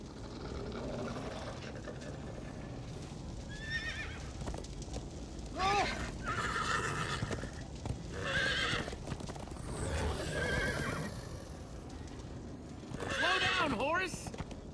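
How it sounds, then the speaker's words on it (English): A horse in Minecraft: Story Mode whinnies several times over steady clip-clopping hooves, with people talking and shouting throughout. "Slow down, horse!"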